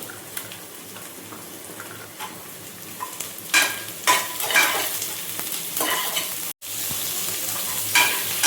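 Garlic tossed into softened onions frying in a pan, a steady close sizzle with intermittent stirring scrapes and a brief dropout near the end.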